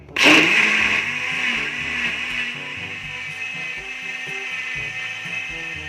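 A loud blender whirs steadily after a sharp start, its motor grinding and rattling continuously with a bright high-pitched whine throughout.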